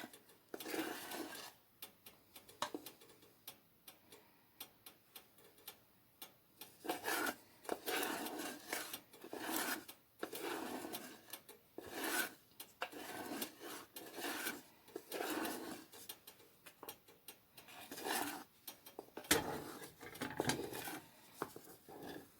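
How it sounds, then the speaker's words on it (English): Sugar sauce for a rum or whiskey sauce is stirred in a pan pulled off the heat, giving soft repeated scraping and rasping strokes of a utensil against the pan, quiet and rhythmic, with no talking. "I'm going to kind of stir that so that my sugar does not crystallize"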